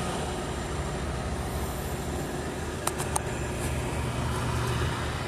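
A 10-speed truck engine drones steadily with a low rumble, a brief metallic clack of gear shifting around the middle, heard alone without talking.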